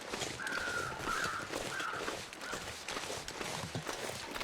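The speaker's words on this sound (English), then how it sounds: "So we got some crows up there" Crows cawing in the snowy survival game The Long Dark, a few faint, hoarse calls in the distance over a quiet outdoor backdrop with soft footstep-like crunches.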